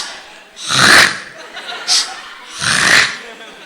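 A person imitates snoring with their voice, giving two loud, breathy snorting bursts separated by a quieter wheezing sound, close to the listener.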